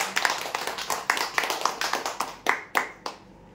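Scattered hand clapping from a small crowd greeting a prize winner at a customer lucky draw, several quick bursts of applause that thin out to a few last claps.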